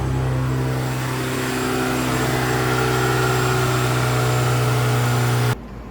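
A Mazda Miata racing car engine, restarted in the shop to check for a leak, idles steadily and loudly up close with a constant drone and a slight rise in pitch, then cuts off abruptly near the end.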